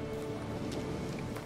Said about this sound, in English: Horse summoning.